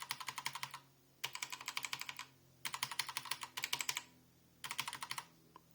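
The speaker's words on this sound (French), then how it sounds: "je tape sur une touche SOG, et après, je tape sur une touche HyperX" Fingers tapping keyboard keys to compare stock keycaps with HyperX Pudding keycaps, in four bursts of quick, close, crisp clicks separated by brief pauses, with no voice over them.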